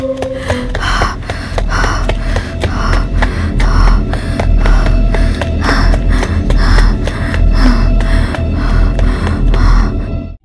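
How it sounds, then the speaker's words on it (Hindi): A frightened girl pants heavily in quick, rhythmic gasps that continue steadily for about ten seconds over a constant low background drone. "लड़की इतने जोर से हाँफ रही थी और कुछ घबराई हुई थी।"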